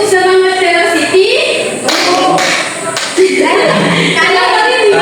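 A class of students stands and performs a rhythmic clapping chant led by a teacher in a classroom, with chanting voices over bursts of hand claps.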